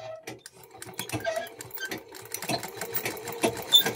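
A sewing machine runs short bursts of stitching through fabric, doing tight edge stitching along a border, with a quick rhythmic clatter that starts and stops in close, fairly loud runs and no talking.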